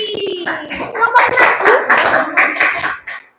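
A class claps for a student discussion group after its presentation, a burst of uneven hand claps under overlapping voices that fades out at the end.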